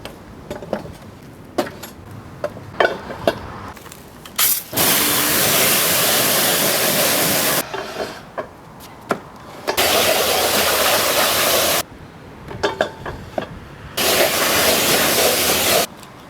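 A high-pressure washer sprays car wheels set side by side in three long, loud hissing bursts, separated by gaps filled with clanking handling noises.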